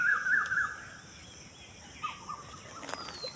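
A loud, clucking bird call rings out from a village pond at the start, followed by softer scattered calls and chirps over quiet outdoor ambience.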